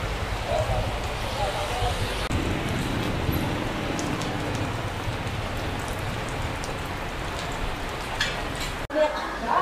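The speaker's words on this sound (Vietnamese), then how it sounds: "Vì trời mưa cho nên chi nhiều người cũng phải nặng lại đợi cho tạnh mưa." Steady rain falls and patters on surfaces outdoors in Hue, Vietnam, a continuous dense hiss throughout.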